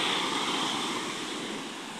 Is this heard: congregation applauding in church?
no